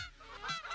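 A goat-goose creature in a video game lets out a single short, nasal honk, close and fairly loud, lasting under a second with no talk over it.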